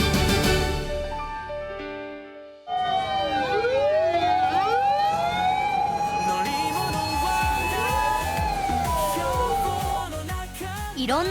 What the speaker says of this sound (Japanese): いろんな消防車や消防ヘリがたくさん見られる消防出初め式。